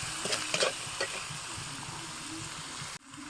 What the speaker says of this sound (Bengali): মশলাটি আবারও ভালো মতো মিশিয়ে আর একটু সময় কষিয়ে নেব।